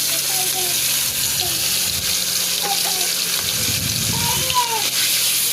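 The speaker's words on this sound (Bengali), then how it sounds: "তেল গরম হয়ে গেছে, এখন আবার দিব মাছগুলা ভেজে নেব হালকা করে।" Fish fries in hot oil in a wok with a loud, continuous hissing sizzle throughout, while faint voices and a few thin whistling tones sit in the background.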